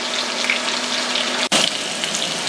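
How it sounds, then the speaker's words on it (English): Potatoes sauté steadily in hot oil and butter in a pan, a close, continuous crackle with a brief dip partway through. "You're sauteing, you're not deep frying here."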